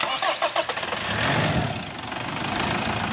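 A Mitsubishi Strada 2.5 diesel engine starting after a fuel filter replacement, with a few rapid starter cranks, then a catch into a steady, loud, knocking diesel idle close by.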